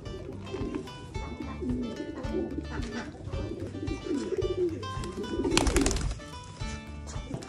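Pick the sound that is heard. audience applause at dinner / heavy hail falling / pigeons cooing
pigeons cooing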